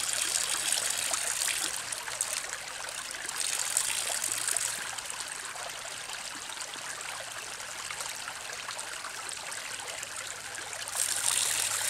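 Creek water flowing over rocks at a gold-prospecting site, a steady close trickling and babbling stream with no voices, continuous throughout.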